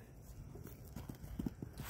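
Mini horse moving around a yard, a few soft hoof clops on the ground, faint and close, with quiet background noise and a brief voice.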